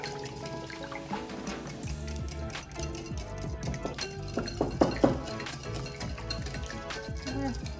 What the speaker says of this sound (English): I got my whisk so that we can mix this together